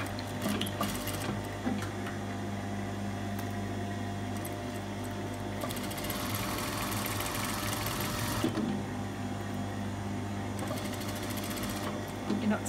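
Sewing machine stitching the hem of a woven dress, a steady close mechanical whirr with a faster, louder run in the middle, while people talk quietly over it.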